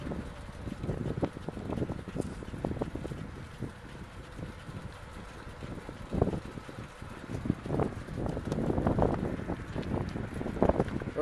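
Wind buffets the microphone of a moving recumbent trike on a spring ride with a 15 mph northwest wind, making a continuous low rumbling roar with irregular gusty surges, loud and close throughout, no voices.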